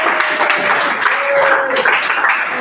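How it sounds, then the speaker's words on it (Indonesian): Children clapping together in a classroom, a steady dense patter of many small hands close by, with faint voices mixed in. "Tepuk tangan anak-anak."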